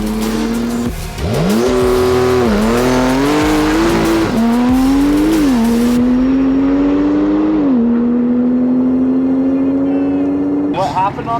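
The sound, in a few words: tuned car launching on an airport drag run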